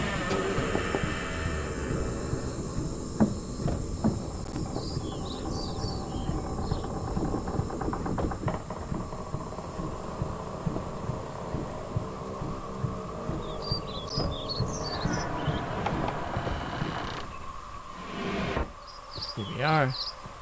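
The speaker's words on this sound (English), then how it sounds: "And the frogs and crickets and stuff is intense." Frogs and crickets chirp in a dense night ambience in the Myst remake game, an intense buzzing hum with repeated high chirps, heard under someone talking.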